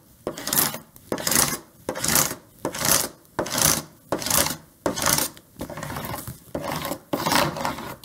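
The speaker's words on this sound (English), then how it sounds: "So I'll do that just by kind of scraping back and forth." Scraper tool rubbed back and forth over a design on transfer tape, a steady rhythmic rasping scrape of about a dozen strokes, close and loud with no talking.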